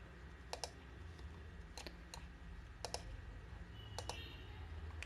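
Mouse clicks and keyboard typing at a computer running CATIA CAD software, a few sharp clicks and short bursts of keystrokes spaced across the stretch over a low steady hum, with no talking.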